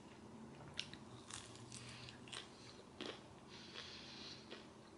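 Crunchy french fries being bitten and chewed up close, soft scattered crunches and mouth sounds at low level with no talking.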